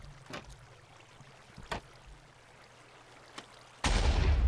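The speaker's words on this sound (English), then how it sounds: "I flick this lever to turn on the bone meal farm and the explosions" A Minecraft bone meal farm runs, giving a few soft separate thumps spaced a second or so apart before a sudden loud burst of rushing noise that fills the final moment.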